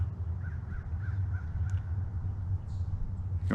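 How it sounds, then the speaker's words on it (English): Several crows cawing outdoors, a run of short repeated caws at moderate distance over a low steady background hum, with no talking. "Got my crows talking."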